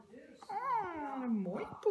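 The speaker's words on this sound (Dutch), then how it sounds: "een mooi poesje." A cat gives a long, drawn-out meow that rises and then slowly falls, followed by a shorter second cry, close by.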